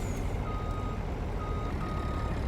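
A truck pulling a trailer backs slowly into a narrow barn, its reversing alarm sounding in steady, evenly spaced beeps over a continuous low engine rumble, with no talking.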